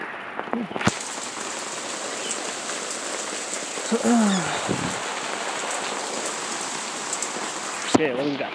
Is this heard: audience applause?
no